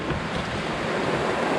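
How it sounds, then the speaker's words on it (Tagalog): Rain falling in a jungle, a steady, even wash of broadband hiss with no distinct drops or pauses, fairly soft and continuous. "Ay, ulan."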